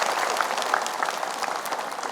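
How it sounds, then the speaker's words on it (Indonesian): Studio audience applause on an Indonesian morning religious TV show, a steady dense wash of clapping holding at even loudness throughout with no voices over it. "Oke, tepuk tangan lagi deh."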